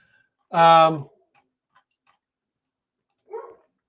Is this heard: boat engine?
no